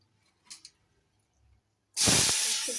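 Bitter gourd in water under a lid on the stove builds into a loud, sudden, steady steaming hiss, after a couple of faint knocks and light handling sounds.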